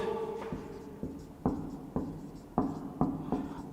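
Chalk or marker taps and scratches on a board in short, evenly spaced strokes during a chemistry lecture, fairly quiet and close, with no talking.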